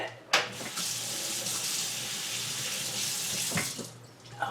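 Kitchen tap water pours steadily over a fork being washed, a loud, continuous close-up rush with a couple of sharp splashes or knocks near the start and end.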